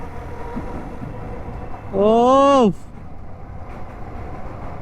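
A train passes alongside a motorbike riding near Bally Bridge. A loud, wavering horn blast lasts under a second over a steady rumble of engine and wind.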